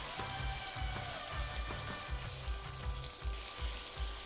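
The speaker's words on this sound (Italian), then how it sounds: "è il momento di rosolare le polpette." Meatballs browning in hot oil in a pot, a steady loud sizzle and crackle with regular low bumps as they are stirred or shifted.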